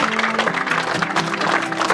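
An audience claps at the award ceremony of a fishing tournament, giving a brief burst of dense, steady applause from a crowd close by.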